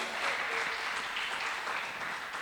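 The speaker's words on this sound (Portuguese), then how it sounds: "Dá um aplauso ao Senhor então aí." A church congregation applauds during a worship service, steady crowded clapping at moderate volume that carries on evenly without speech.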